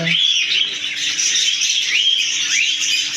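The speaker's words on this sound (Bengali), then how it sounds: "অনেক পাখি অনেক কিচিমিচির অনেক সুন্দর" Many caged birds in a pet bird shop chirp and twitter together, a dense, continuous bright chorus of overlapping high tweets, loud and close, with no voices.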